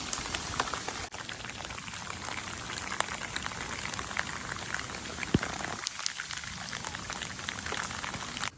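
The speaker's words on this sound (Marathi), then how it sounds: "पावसाला सुरुवात झाली आहे" Steady rainfall pattering on surfaces nearby, with scattered louder drips and splashes, and no one speaking.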